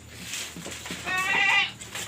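A goat bleats once, near and loud, in a wavering cry over a steady low hum and faint background noise.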